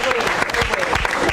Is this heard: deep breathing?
no